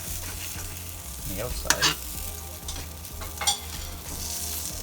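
Homemade veggie burgers fry in a pan with a steady sizzle, broken by a few louder crackling bursts and stirring scrapes, while a voice speaks briefly over the cooking.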